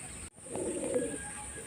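A Madras pigeon gives one soft, low coo, faint and brief against a steady background hum.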